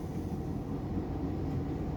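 Interior of a moving XPT passenger train carriage in New South Wales, a steady low rumble of wheels and running gear, constant and moderately quiet with no talk.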